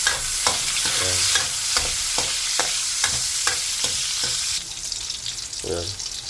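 Onions sizzle in a pan with garlic for shrimp and squash in coconut milk, with a steady frying hiss and regular scraping strokes of a spoon stirring throughout, then quieter sizzling at the end.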